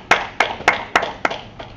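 Congregation in a church clapping in sync, six sharp, evenly spaced claps about a quarter second apart, loud and close, fading slightly toward the end with no voices.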